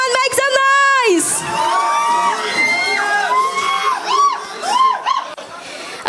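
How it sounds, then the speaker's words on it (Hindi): A crowd at a press event cheers and whoops, loud shouts and yells rising in bursts close by, with a voice speaking amid the noise. "Everybody come on make some noise."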